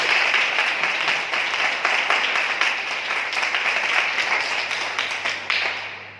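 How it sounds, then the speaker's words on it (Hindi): A large crowd at a religious gathering applauds continuously, a dense wash of many hands clapping that stays loud and steady before beginning to thin out at the end. "हम जोरदार तालियों से उनका स्वागत करें"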